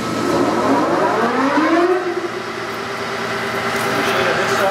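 A large Clausing 1250 Magnum engine lathe, 25 by 88 inches, runs at 630 RPM in a machinery shop, giving a loud steady mechanical whine with a pitch that rises and then levels off.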